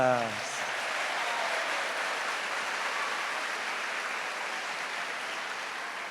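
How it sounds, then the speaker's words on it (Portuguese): A church congregation applauds the children at a Catholic Mass: a broad, steady wash of clapping that fills the whole space and runs on evenly throughout, after a brief voice at the very start. "vamos dar uma salva de palmas para as crianças"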